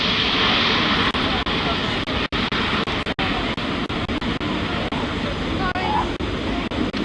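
Airbus A400M turboprop with eight-bladed composite propellers flying at the Farnborough airshow, a steady loud engine roar throughout, with a commentator speaking over it.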